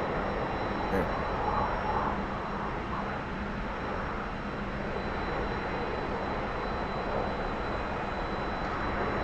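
Steady broadband roar of a T-45 jet engine under throttle in the DCS flight simulator game, a continuous loud drone with no clear breaks, holding level throughout.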